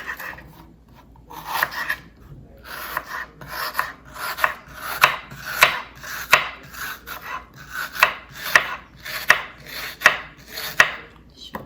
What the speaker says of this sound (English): So I'm going to slice the